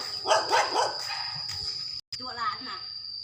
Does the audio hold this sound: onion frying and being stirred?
no